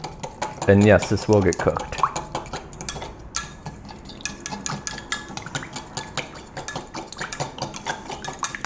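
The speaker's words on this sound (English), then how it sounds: "let's give her a stir" A burger mixture stirred with a utensil in a bowl, producing rapid rhythmic scraping and clinking strokes, close and steady, while someone talks briefly near the start.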